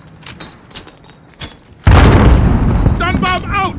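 A grenade explodes in Call of Duty: Modern Warfare, a loud, sudden boom that swells into a rumbling roar after a few sharp gunshot-like thumps, with a voice shouting over the tail.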